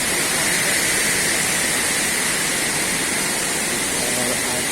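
Water rushes steadily at San Ghagara Waterfall in Odisha, a loud, unbroken roar of falling water with no pauses or breaks.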